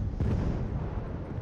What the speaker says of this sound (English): Saw that explosion.